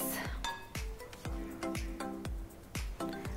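A utensil stirs flour into brownie batter in a bowl, knocking against the bowl in a steady rhythm of about eight close, clear strokes.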